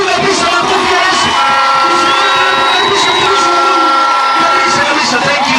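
A congregation at a thanksgiving service at Gospel Embassy Chapel cheers loudly, a dense and continuous roar of voices with some singing tones, holding steady for the whole stretch.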